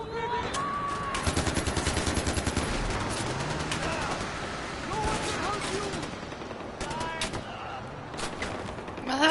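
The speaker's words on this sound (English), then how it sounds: "Where the hell are they shooting from?" Rapid bursts of automatic gunfire and scattered shots crackle through a Far Cry 4 firefight, with a dense volley early on and sporadic reports later, under intermittent voices.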